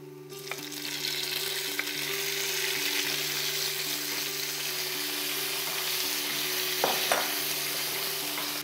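Cherry tomatoes and garlic sizzling steadily in a hot pan, a continuous bright crackling hiss with faint occasional taps, alone with no talking.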